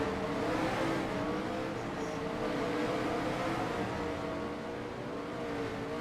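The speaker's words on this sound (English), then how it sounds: "As you see, we got more cars coming out" Race cars leaving the pits at Michigan, a loud, continuous drone of several engines revving and passing close, heavy and unbroken throughout.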